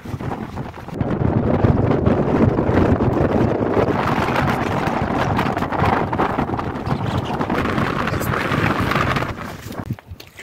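Strong wind buffets the microphone on the Llanberis path up Snowdon in November, a loud, continuous roaring gust that holds steady for about nine seconds before easing near the end.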